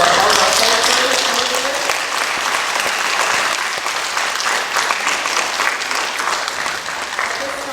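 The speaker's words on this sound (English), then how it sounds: "We can just put our hands together for a round of applause for all of our senators." A school board meeting audience gives a sustained round of applause, dense steady clapping filling the room from start to finish.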